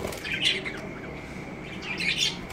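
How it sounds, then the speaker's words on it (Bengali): An angry pet bird squawks and chirps in two bursts, near and fairly loud, over a low indoor background hum with no talking. "পাখিগুলো টুকটাক ডিস্টার্ব করছে"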